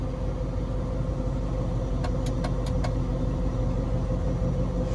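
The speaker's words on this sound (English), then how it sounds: "Now the vehicle is running. I'm going to put the phone by the exhaust." A 2003 Cadillac DeVille idles just after a cold start on a cold day, heard close at the exhaust: a steady, smooth low rumble with a few faint light clicks midway.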